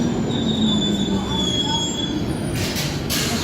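London Underground train on the Hampstead line running through a tunnel, wheels squealing in long, high, sustained tones over a steady rumbling roar, close and loud.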